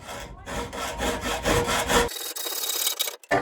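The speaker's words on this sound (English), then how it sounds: "So nice and firmly in the vise, take a hacksaw, find the mark that you've made." A hacksaw cuts through a metal blind rail clamped in a vise in a garage, with rapid, steady back-and-forth strokes that are close and loud, then a few slower, rougher rasps at the end.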